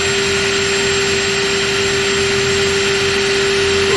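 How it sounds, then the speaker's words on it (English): A power drill drives screws into the wooden wall framing of a pole barn being built into a house, giving a steady, loud, continuous whine with a fixed high motor tone that holds unbroken throughout. "Push on the back of the drill."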